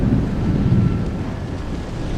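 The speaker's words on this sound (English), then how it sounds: "it began to thunder, and the skies became dark. Huge waves were crashing onto the cliff." A sound effect of thunder and waves crashing onto a cliff in a storm, with a low, rolling rumble and wind-like roar that swells and then fades, with no talking.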